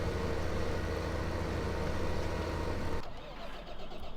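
A tractor engine labors uphill under a heavy load in Farming Simulator 2015, a loud continuous rumbling drone that drops off abruptly after three seconds to a quieter idle.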